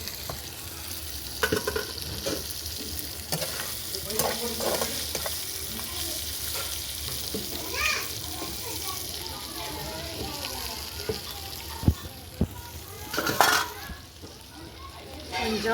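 Chicken pieces with onions fry in a pot for a Sunday chicken fry, a constant close sizzle broken by scraping stirs and clanks, with talk faintly over it.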